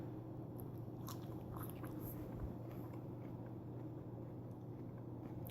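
A whole raw habanero pepper is bitten and chewed up close, soft crunches and wet mastication sounds repeating faintly over a steady low background hum.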